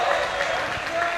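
Loud basketball crowd cheering and applauding after a charge is taken at a men's college regional tournament game, a dense sustained roar of clapping and voices throughout.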